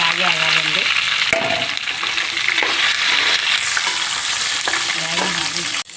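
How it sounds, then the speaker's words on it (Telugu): Tomatoes, curry leaves and dried red chillies frying in a pan for coconut chutney, a loud continuous sizzle with stirring scrapes, close and steady. "బాగా అన్నీ ఇలాగే ఎర్రగా వేపుకోవాలండి"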